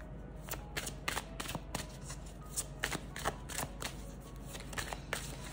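Tarot cards shuffled by hand, close and fairly quiet: a steady stream of soft riffling and slapping card sounds with irregular sharper flicks, no voices.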